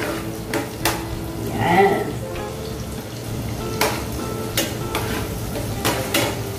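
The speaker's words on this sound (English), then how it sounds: "So, pagiging brownin din natin ang ating onions" Onions sauté in butter with browned garlic in a pan, a close sizzle under repeated utensil scrapes and clinks, with a brief murmur of voice partway through.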